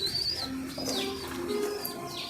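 Pigeons coo softly at their home loft as darkness falls, low throaty calls repeating steadily with a few faint higher chirps over a quiet background.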